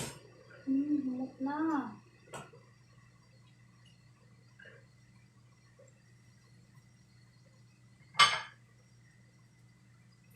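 Lobster being stirred in black pepper sauce in a pan, with a couple of sharp utensil clinks against the metal amid quiet stretches, and someone speaking briefly at the start.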